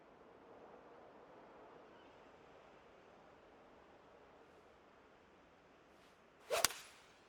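A golf club striking the ball in PGA 2K25, a single sharp crack near the end following a long stretch of soft wind-like ambience.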